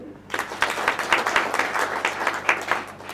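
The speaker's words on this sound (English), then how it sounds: "Can we clap for them?" Graduation ceremony crowd clapping at a university hall, a moderate burst of many hands that starts suddenly and continues at a fairly even level for about three seconds, with a low steady hum underneath.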